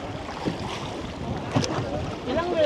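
Small boats circling a feeding boat at a whale shark watching spot in Oslob, Cebu, heard as a steady wash of engine, water and wind noise close to the microphone, with a faint rising tone near the end.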